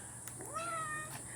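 A single drawn-out cat meow, clear and fairly close, with faint background noise around it.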